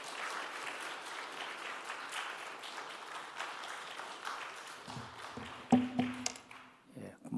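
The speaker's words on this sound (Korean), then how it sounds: "우리 목사님 나오시길 큰 박수로 환영하도록 하겠습니다" Church congregation applauding to welcome a pastor at a New Year revival service, steady sustained clapping that fades, followed by a voice starting to speak at the end.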